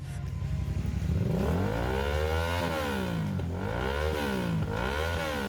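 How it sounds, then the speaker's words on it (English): A Suzuki V-Strom 650 motorcycle with a 645 cc 90-degree V-twin engine, revving up and down repeatedly in rising and falling sweeps, loud and close with a throbbing, uneven exhaust note. "Number 13, Suzuki V-Strom 650 V-Twin."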